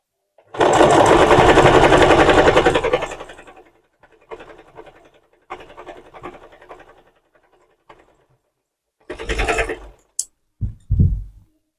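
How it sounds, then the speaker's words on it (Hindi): Sewing machine double-stitching a blouse, running close and loud in one long buzzing burst, then several shorter start-stop runs and a few clicks and handling knocks near the end, with no talking. "तो इसमें हम डबल सिलाई लगा लेते हैं"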